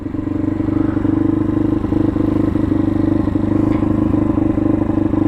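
Steady, loud droning of a Derbi Senda 125cc motorcycle engine pulling under load with a larger rear sprocket and a slipping clutch, holding a fairly constant note with some clatter throughout, no voices.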